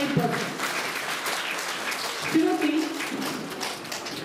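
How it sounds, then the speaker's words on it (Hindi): Audience applause at a school ceremony honouring students who topped their board examinations, a steady wash of clapping under a voice reading out names and percentages. "तालियां बजती रहे"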